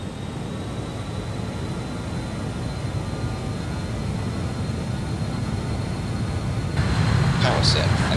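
BAe 146 jet engines at takeoff power in a flight simulator give a loud, steady broadband roar with a faint whine, growing stronger near the end as a voice briefly cuts in over the noise.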